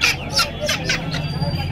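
Chickens at a crowded poultry market in Uluberia squawk and cluck in several quick, close, loud bursts over a busy murmur of voices.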